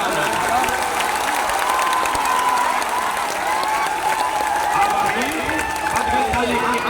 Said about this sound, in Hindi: अब ताली बजा लो भाई